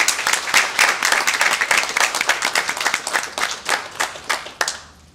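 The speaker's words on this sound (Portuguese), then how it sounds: "Uma salva de palmas e a Marca de Gaiteiro!" A crowd claps in a dense burst of applause that thins out toward the end, leaving a few scattered claps before fading.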